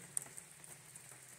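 Steady rain patters on surfaces around a side-by-side stopped for a break on an off-road trail at Windrock Park, a soft continuous hiss with a few sharper drops close by.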